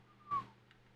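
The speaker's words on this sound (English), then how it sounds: "Impressed, I let out a low whistle." A single short, low whistle in the Snoot Game video game, a brief gliding tone that rises and falls once over a quiet low hum, followed by a faint soft blip.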